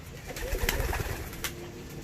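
Ornamental pigeons cooing inside their coop in Adıyaman, Turkey, soft throaty coos at moderate distance over a steady background murmur.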